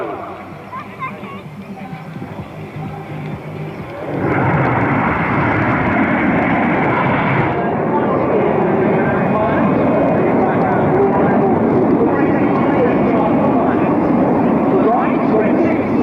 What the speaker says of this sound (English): These 4 aircraft now set to just 100 feet above the airfield